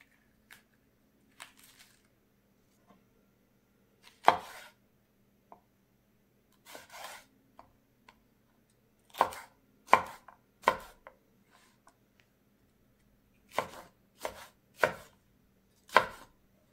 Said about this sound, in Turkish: Biberlerin çekirdeklerini temizleyip aynı şekilde biberleri de doğruyorum.